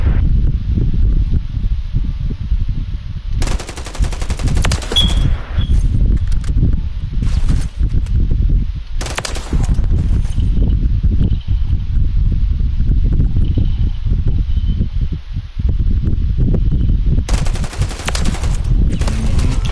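Loud, sustained automatic weapon fire in Call of Duty Modern Warfare 3, long rattling bursts separated by short gaps, dense and close, with no talk over it.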